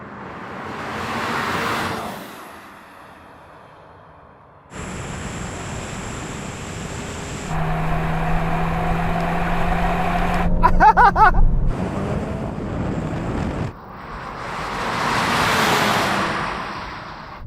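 Volkswagen GTI cars accelerating hard in a drag race, with a loud sustained engine roar climbing through gears and whooshing passes at the start and end.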